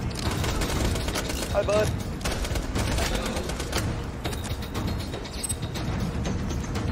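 Rapid gunfire in the video game Borderlands 2, dense continuous bursts of shots and explosions filling the whole stretch, with a brief spoken greeting over the top.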